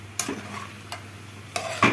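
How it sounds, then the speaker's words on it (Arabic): Cumin, salt and sausage get turned together in a frying pan for a homemade pizza topping: a few sharp scraping clicks of a utensil against the pan over a faint steady sizzle, close by, with no speech. "هنقلب بقى الحاجات دي كلها ببعضها كده"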